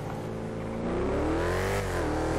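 A truck engine drones steadily while driving on a freeway in GTA 5, its pitch rising and falling slightly as it holds speed, close and continuous with no other sounds.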